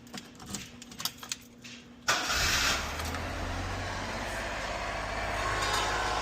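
A Honda Acty mini truck with its stock exhaust cranks briefly and fires up, after faint handling noises, then settles into a steady, fairly quiet idle close by, with no talking.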